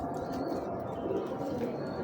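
A female Sialkoti pigeon gives soft, low cooing close at hand, repeated in short throaty pulses against a faint room background with occasional other bird chirps.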